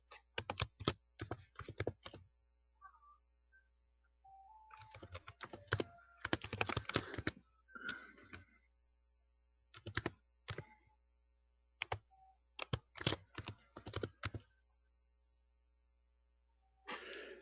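Bursts of computer keyboard typing, clicky and close, in several quick runs separated by short pauses, with no talking over it.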